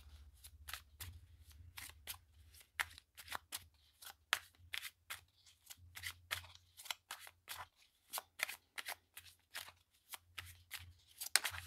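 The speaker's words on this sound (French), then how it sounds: "Alors, on va attraper une carte de Magic Luna." A deck of oracle cards being shuffled and drawn by hand, a dense run of quick, crisp riffling flicks in close, soft bursts with brief pauses and a faint low hum underneath.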